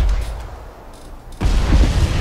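An explosion in the action game UNDEFEATED, where a robot appears: a sudden loud, deep boom bursts in after a quiet rumbling lead-in and rolls on heavily to the end.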